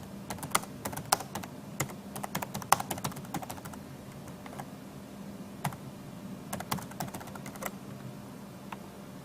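Steady typing on a computer keyboard, close and clear, with bursts of quick key clicks and short pauses over a low background hum.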